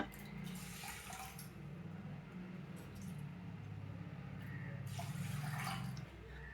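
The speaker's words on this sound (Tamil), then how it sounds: "ஊற வச்ச அரிசியை இது மாதிரி ஒரு குக்கரில் போட்டுக்கிட்டு 4 மடங்கு தண்ணி ஊற்றிக்கணும்" Water pours steadily into a metal pressure cooker holding soaked rice at close range, a continuous splashing gush with a few brief surges.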